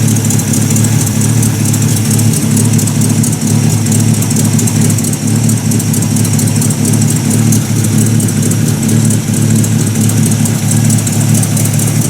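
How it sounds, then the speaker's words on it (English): A cold 1950 Buick Roadmaster engine idles low with a loping, uneven rhythm, running steady and close for the whole stretch with no voices. "if you want to talk about a low idle or loping idle, that's what we got going on here"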